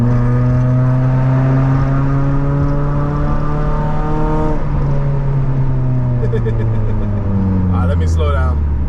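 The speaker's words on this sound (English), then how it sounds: "Riding in the tunnel, just revving up your engine," A muscle car V8 revs hard inside a tunnel, the loud engine note climbing and falling with echoing harmonics that fill the whole stretch, with no pause between pulls.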